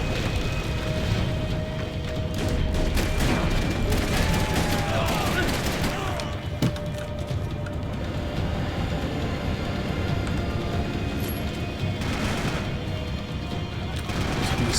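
A building explodes during a Max Payne 3 gunfight on the New York Minute hardcore mode, a loud, sustained roar of crashing debris and rumbling with sharp cracks layered over it throughout.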